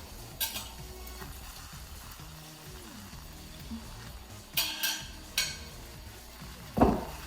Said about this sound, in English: Now I'm adding the sausage.